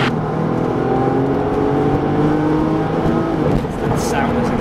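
A Porsche 911 Turbo with Tiptronic launching at full turbo boost, its engine holding a loud, sustained rising drone with layered harmonic whine, close and continuous, with a voice partly audible beneath.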